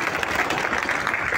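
A crowd applauds at a public event honouring security forces, steady dense clapping that holds at an even level throughout, with no one speaking over it.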